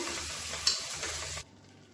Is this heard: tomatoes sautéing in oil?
yes